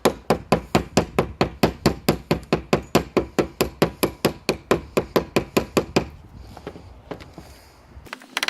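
A Buck 009 knife strikes a branch in a fast, steady series of sharp, close chopping knocks, each evenly spaced, before the blows stop and only faint rustling remains.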